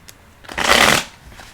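Tarot cards shuffled energetically during a reading, a single quick riffling burst that builds and fades over about a second, close and fairly loud with no talking.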